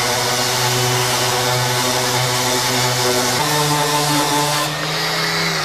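A loud, steady power sander whir drones continuously on wood, its pitch dropping slightly partway through as the machine works against the surface.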